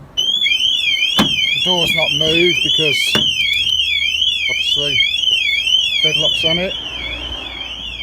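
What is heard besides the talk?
vehicle alarm siren sounding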